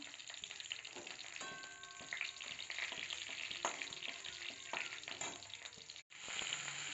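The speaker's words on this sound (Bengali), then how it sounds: "এবার কড়াতে তেল দিয়ে দিলাম। সাদা জিরা, কালো জিরে দিলাম ফোড়ন।" Cumin, nigella seeds and chopped dry and green chilies tempering in hot oil in a kadai, a steady close crackling sizzle that holds for several seconds with a few light stirring scrapes and a brief break near the end.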